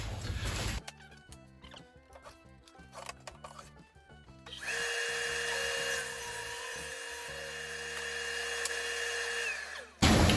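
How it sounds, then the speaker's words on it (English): A table saw rips a wood board to width, the motor spinning up and then holding a loud, steady cutting whine for several seconds before stopping, with no talk. "going to cut this to width now. I threw a clean blade on the saw"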